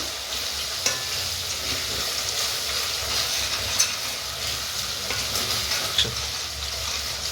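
Chilli sauce and ingredients frying in oil for spicy green chilli chicken, a constant close sizzle with scraping stirs and a few sharp clinks of the spoon against the pan, no voices.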